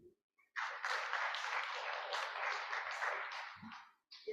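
An audience at the 2nd Multisectoral Conference on Science, Technology and Innovation breaks into a sustained round of applause, many hands clapping evenly for about three seconds before fading, with brief voice sounds at the edges.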